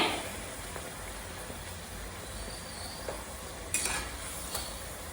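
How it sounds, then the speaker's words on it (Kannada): Poori frying in hot oil, a steady soft sizzle throughout with a few brief crackles and bursts, including a louder flare near the middle of the clip. "ಇದನ್ನ ಒತ್ಕೊಳ್ತಾ ಹೀಗೆ ಕರಿಯೋದ್ರಿಂದ ಏನಾಗುತ್ತೆ ಅಂದ್ರೆ ಉಬ್ಬತ್ತೆ ಪೂರಿ"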